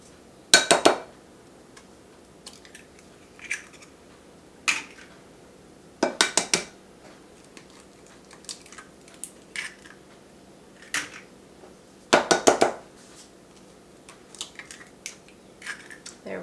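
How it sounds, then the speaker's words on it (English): Eggs are added to melted coconut oil in a bowl for whole wheat cornbread, heard as a series of sharp clinks and taps of shell and utensil against the bowl, separated by quiet pauses. "I'm going to add my eggs to the oil"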